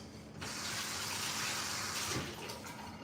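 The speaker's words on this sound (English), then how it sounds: "Give it a little rinse." Steady rush of running tap water as something is rinsed in a kitchen, starting abruptly and flowing loud and continuous for a few seconds, close by with no talking.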